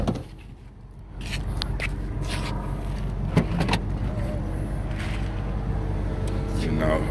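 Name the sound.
car power window going down at push of a button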